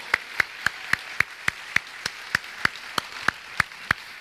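Church congregation clapping in a steady, even rhythm, crisp unison claps about three per second, close and clear with little else around them.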